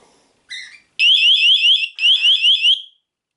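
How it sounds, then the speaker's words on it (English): A D-Link smart home siren sounds in close, rapid warbling sweeps, two short chirps first, then two longer bursts of fast rising tones with brief gaps. "There you go, siren at the top there."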